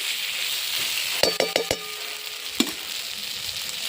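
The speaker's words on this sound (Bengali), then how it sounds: "এবার আলু দিয়ে একটু কষাবো" Fried potatoes being sautéed in a pan, a constant close sizzle broken by a quick burst of four sharp spatula scrapes and clinks against the metal and one more a moment later, with no voices.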